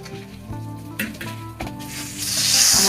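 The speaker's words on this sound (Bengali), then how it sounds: "আমার বেগুন ভাজাগুলো হয়ে যাচ্ছে" Eggplant slices fry in hot oil with a steady close sizzle that swells into a louder hiss near the end, and background music plays underneath.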